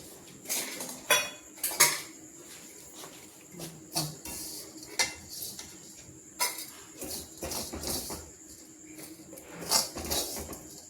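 Metal pots and utensils clink and scrape as cooked jackfruit flower-stalk stir-fry is moved into a flat dish, sharp intermittent clatters and taps over several seconds in a quiet kitchen.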